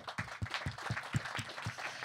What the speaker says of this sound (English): Please have a warm round of applause.